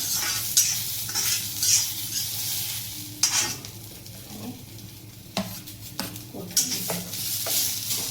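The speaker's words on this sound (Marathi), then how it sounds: "लसूण पण टाकला आहे परतून घ्यायला" Garlic, with crushed ginger, frying and being stirred in a pan while masala is prepared for an egg curry; steady sizzle with repeated scraping stir strokes, close and alone.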